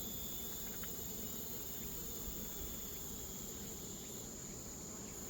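Honeybees hum around an opened beehive during an end-of-August hive inspection, a continuous, even drone with high steady tones over a low rustle, fairly faint and without any talk.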